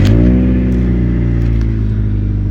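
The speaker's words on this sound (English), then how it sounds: "I'm gonna turn the car on" A 1999 Honda Civic engine starts up close and loud, settling quickly from a brief surge into a steady rumbling idle with no voices.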